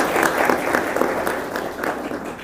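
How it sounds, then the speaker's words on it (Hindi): Audience at a Hindi speech event on daughters and development breaks into applause, a dense, steady patter of many hands clapping together, fairly loud and even throughout before tapering slightly at the end. "आप सभी ताली बजा सकते हो।"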